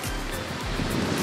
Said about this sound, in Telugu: ఈ సముద్రం సౌండ్ వింటేనే ఉన్న స్ట్రెస్ అంతా పోయింది.